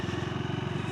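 A KTM SMC-R 390 single-cylinder motorcycle revving hard while accelerating in third gear, a steady loud pulsing engine drone heard close and alone.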